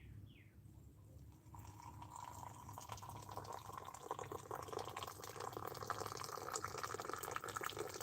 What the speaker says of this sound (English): I can do a high pour while still holding it and not burning myself.